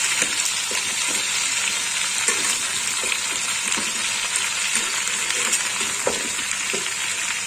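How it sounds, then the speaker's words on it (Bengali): Mixed vegetables fry in a pan for an egg chorchori, giving a steady loud sizzle with scattered crackles and soft stirring clicks, close up and continuous, with no one speaking. "সবজিগুলো একটু ভেজে নেব ঢাকা দিয়ে"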